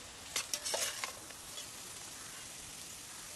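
Potatoes go into a hot pot for masale bhat cooked over a wood-fired chulha, with cabbage and chutney masala already in. A few quick clattering stirs and sizzles come at the start, then a steady soft frying hiss carries on alone.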